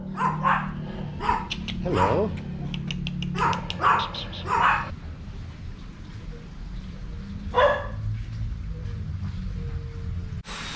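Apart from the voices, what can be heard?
dogs barking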